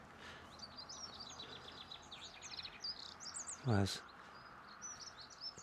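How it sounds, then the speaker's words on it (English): Chaffinches, goldfinches and dunnocks singing on farmland, light chirping and twittering phrases at a moderate distance over faint background hiss, with a brief spoken word partway through. "chaffinches singing, goldfinches, dunnocks"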